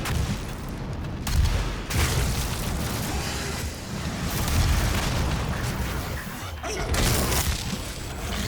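Rocket launcher explosions in Doom, heavy booming blasts rolling one after another in a thick, continuous wall of game combat noise.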